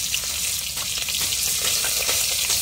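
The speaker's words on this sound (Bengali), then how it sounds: "চলো মাছগুলোকে ভেজে মাছগুলো এখন ঝোল বানাবো" Fish (koi) frying in hot oil, a steady close sizzle with crackling pops throughout, no talk.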